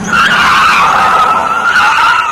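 A car brakes hard and skids to a stop, its tyres squealing loudly and continuously from start to finish with no voices over it.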